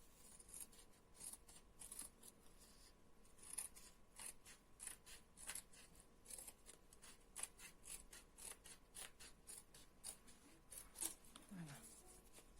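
Scissors snip through plain wrapping paper in a series of short, quiet cuts, with faint rustling of the paper between strokes, close and soft.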